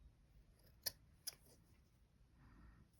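Scissors snip twice in quick succession while fabric is trimmed for a hare-patterned table runner, two sharp close clicks over a quiet room with no talk.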